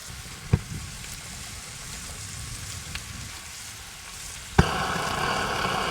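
Taco fillings frying in a pan outdoors in the desert, stirred with two separate utensils, make a soft continuous sizzle broken by a couple of sharp clacks, after which the frying grows louder and brighter.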